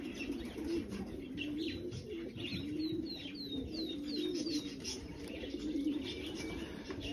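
Racing pigeons coo and chirp as they arrive at a loft after a 130 km race from Bergerac, with a run of brief calls midway and a steady background hum of the surroundings.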